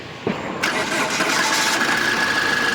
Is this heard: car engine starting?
yes